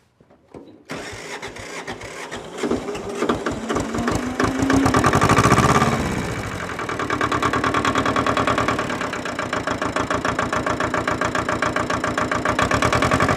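A diesel tractor engine cranks briefly, catches and rises, then settles into a steady, rhythmic chugging idle that continues to the end.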